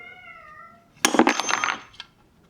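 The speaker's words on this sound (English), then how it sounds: "You can hear our resident cat" A cat lets out a drawn-out, wavering meow that rises into a louder, strained cry, with a faint tonal hum before it.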